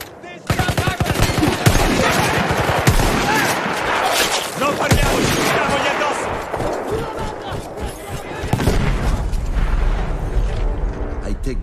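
Loud, sustained machine gun fire from an emplaced gun manned by Austro-Hungarian troops in Battlefield 1, rapid rattling bursts with heavy battle booms and a voice over the din.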